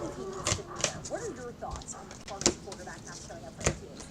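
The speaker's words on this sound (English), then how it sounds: "Looks like him and the other dog are fighting." Dogs fight upstairs indoors, giving faint, muffled yelps, whimpers and sharp thumps that come and go irregularly behind nearby talking.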